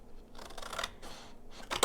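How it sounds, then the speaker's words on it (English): Scissors cutting a sheet of paper while making Christmas cards, a few quiet crisp snips in short bursts with brief pauses between, close and faint, no voices. "I would just cut these apart"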